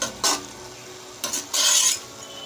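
Amaranth leaves with green chillies being stir-fried in a pan, heard as brief scraping stirs and a soft sizzle in short bursts, close and fairly loud, with no talking.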